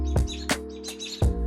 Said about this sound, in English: The birds are yelling at me.